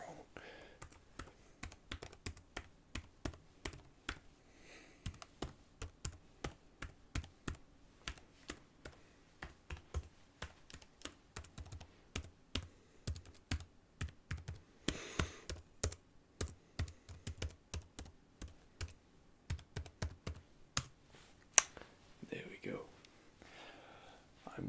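Close, soft typing on a computer keyboard in a repair roleplay setting, quick irregular bursts of key clicks with short pauses, and a quiet voice speaking intermittently.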